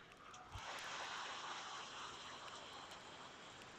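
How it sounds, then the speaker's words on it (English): Rain falls outside during what may be a monsoon, a soft, steady hiss heard faintly from indoors. "listen to that rain"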